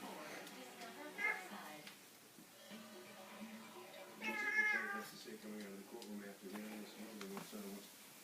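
Repeated drawn-out meows from a nearby cat, rising and falling in pitch, over a faint background hum.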